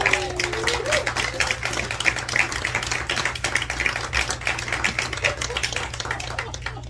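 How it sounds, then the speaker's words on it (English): An audience at a live poetry reading in a small venue claps steadily, with many hands close together in a dense, continuous patter, and a low hum running underneath. "that might be the most applause I've ever gotten for reading that fucking poem"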